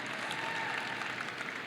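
Audience applause fills a university winter commencement ceremony, a dense, steady wash of many hands clapping throughout without a break.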